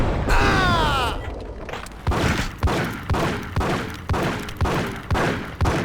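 Gunshots in the Max Payne video game, a series of about eight heavy, evenly spaced reports with echoing tails, loud and close, preceded by a swooshing effect.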